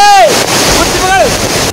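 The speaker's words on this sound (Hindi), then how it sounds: "जिनमें नदी का पानी झरने की तरह बहता नजर आया" Heavy, continuous rushing of monsoon-swollen river water pouring like a waterfall at the Dantewada iron ore plant, a loud broadband roar with wind buffeting and brief faint voice-like tones rising and falling over it.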